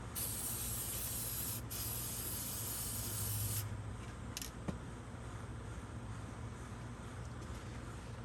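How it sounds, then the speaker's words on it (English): A steady, close hiss of aerosol spray onto a gasket during a Weber 38 carburetor install on a Datsun 620 runs for about three and a half seconds, then cuts off, leaving a quieter background with a faint brief tap. "I'm going to spray both sides so I don't have to put the carburetor over."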